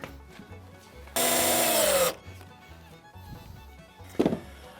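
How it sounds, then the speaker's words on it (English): A cordless power drill drives a screw into the timber of a wooden children's mud kitchen, one loud sustained whine that winds down after about a second, with quieter knocks and handling sounds before and after. "I'm going to fix some more screws all the way along the back of there"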